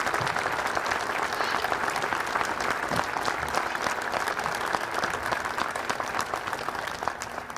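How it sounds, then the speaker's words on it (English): A crowd applauds steadily and loudly throughout, dense continuous clapping filling the room as former players of the Ohio State basketball program stand to be recognized. "give the former players that are here a round of applause"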